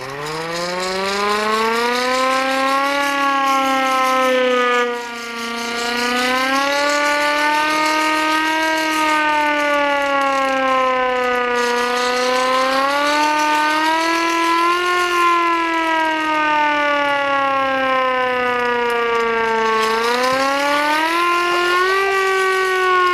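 A hand-cranked LK-100P siren with a plastic handle wails loudly and close by, its pitch rising and falling in long sweeps as the crank speed changes, with one brief dip partway through and no voices.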